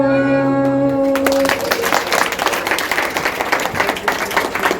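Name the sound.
audience applause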